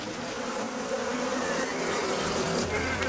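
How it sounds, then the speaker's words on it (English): An angry swarm of killer bees buzzes in a dense, continuous drone, loud and close, with no voices over the sound. "Freeing yourself from an angry swarm of killer bees is difficult."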